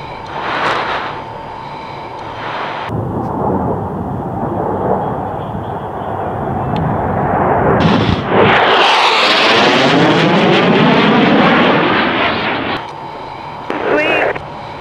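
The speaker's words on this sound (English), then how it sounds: "Viper's in for the hot pass" F-16 Viper fighter jet making a hot pass at an airshow, a loud, building jet roar that swells and sweeps past with a falling whine, while a radio voice and crowd noise sit underneath.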